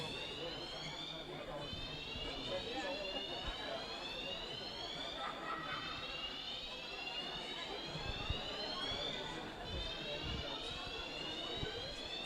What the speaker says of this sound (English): there's an alarm going off. There's an alarm.